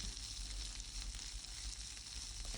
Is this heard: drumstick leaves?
yes